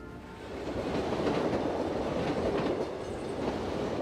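A train runs on its rails with a steady rumbling clatter of wheels that swells slightly midway. No voices are heard over it.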